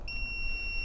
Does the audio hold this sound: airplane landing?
no